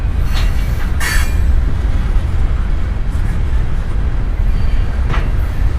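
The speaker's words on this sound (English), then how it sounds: "Rolling that train back into the yard before they drop the engines off the lead." A Norfolk Southern freight train rolls back into the south end of the Debutts rail yard in Chattanooga, a loud continuous rumble of railcars with occasional wheel squeals, close by and steady throughout.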